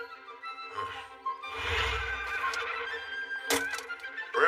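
A horse whinnies loudly and up close in a rising, drawn-out call, followed by a few short snorts and sharp clatters near the end.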